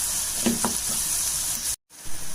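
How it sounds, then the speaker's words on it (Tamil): Small shallots sauté in oil for a roadside-style parotta salna, a constant close sizzle with a couple of stirring scrapes early on, then a brief cut to silence before the frying resumes. "இப்போ சின்ன வெங்காயம் நல்லா வதங்கிச்சு"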